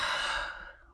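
A single long, breathy exhale during a slow full-body mat workout flow, close and clear, fading out over about a second.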